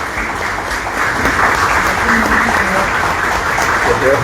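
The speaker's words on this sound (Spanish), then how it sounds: "Yo quisiera, en base a ello, brindarle un aplauso por ese gesto." An audience at a public forum on earthquake preparedness gives a loud, sustained round of applause, dense clapping that swells after the first second and carries on steadily with some voices mixed in.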